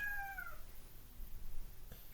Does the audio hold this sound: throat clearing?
no